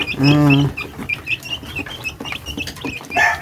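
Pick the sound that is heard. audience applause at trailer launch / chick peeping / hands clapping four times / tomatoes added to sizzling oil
chick peeping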